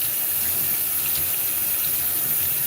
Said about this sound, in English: And before I reuse it, I wash it.